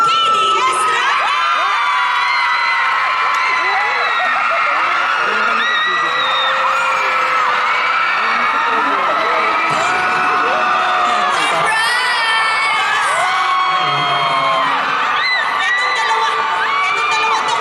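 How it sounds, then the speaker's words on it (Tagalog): A loud crowd at a Star Magic fan event shouts, screams and cheers nonstop to welcome a celebrity guest onstage, with high-pitched whoops rising above the roar. "pwede kayong sumigaw kasi please welcome, KD Estrada!"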